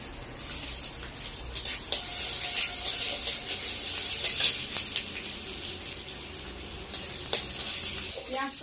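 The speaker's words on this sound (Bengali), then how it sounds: "পেঁয়াজটা আমি ভালো করে ভেজে নেব লাল করে" Onions sizzle steadily as they fry in hot mustard oil in a home kitchen pan, alongside fried peanuts, with occasional stirring scrapes and crackles across the whole stretch and no voices.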